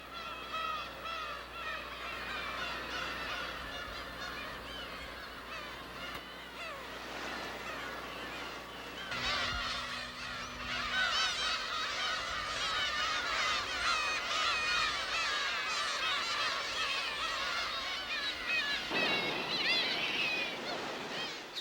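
Seabirds, likely gulls, calling across their nesting colony on Dokdo, a small volcanic rock island, in a dense, continuous chorus of overlapping honking cries with wind and surf beneath.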